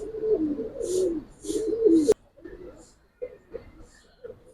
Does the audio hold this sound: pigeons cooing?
yes